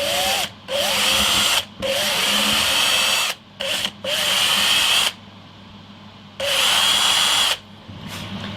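A power drill whines while drilling holes in a guitar body, in several bursts of a second or two each, stopping briefly between them, loud and close, with a low hum underneath.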